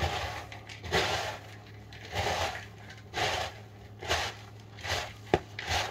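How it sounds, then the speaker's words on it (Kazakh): Cooled pieces of fried anthill (muravейnik) cake being crushed by hand in a bowl, giving repeated soft crunching bursts roughly once a second, close and fairly loud, with no talking. "Міндетті түрде қолмен езіп"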